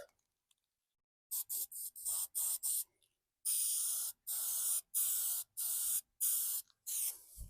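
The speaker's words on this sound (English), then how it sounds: "head over and start applying the paint. We're going to apply it real light." Spray paint hissing onto Jeep Wrangler TJ wheel center caps in light coats, a series of short close bursts after a quiet start, then longer sprays separated by brief pauses.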